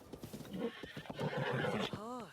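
A horse in the video game Breath of the Wild gives a clear whinny near the end, with its pitch sweeping and wavering. Before it come snorts and hoof clops, and someone talks over the sounds throughout.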